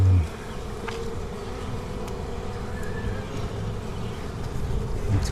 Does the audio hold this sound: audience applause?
no